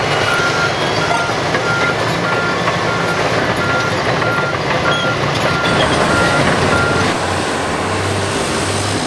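A Caterpillar D10N bulldozer pushes a scraper as it loads dirt at a mine, giving a loud, steady diesel roar and heavy rumble that runs through the whole stretch with no talk.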